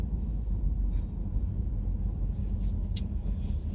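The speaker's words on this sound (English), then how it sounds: "I'm going through the car wash." A car's engine hums in a steady low rumble inside a car wash, close and constant, with faint higher hissing near the end.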